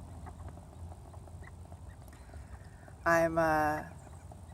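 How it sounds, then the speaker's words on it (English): Outdoors, a duck gives one loud, raspy honking call lasting under a second, close by and rising above quiet ambient noise, with a voice speaking briefly beforehand. "there's these ducks over here"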